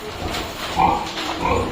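Piglets being moved between pens on a farm, with close, fairly loud grunts and squeals in quick bursts over shuffling and rustling.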